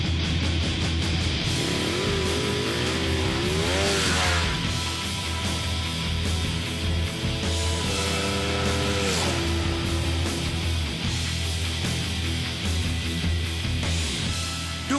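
A 2012 Ducati 1199 Panigale sport motorcycle accelerates hard on a test ride, its loud engine note climbing in repeated rising sweeps between gear changes over constant wind and road roar.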